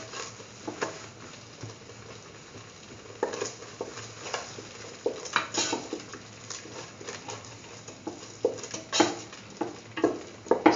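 Spoon stirring salt into a thick curried chickpea coconut dip in a pan, with soft close scraping and wet patters in an irregular rhythm over a faint sizzle.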